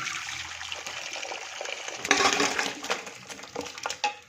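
Beef paya with its cooking water being tipped from one vessel into a clay cooking pot in a Punjabi village kitchen, with steady splashing and pouring, close and fairly loud, and a few sharper surges near the end.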